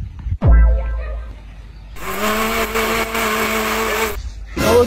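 A blender whirs loudly for about two seconds with a steady, high-pitched motor drone, then stops, preceded by a short thump.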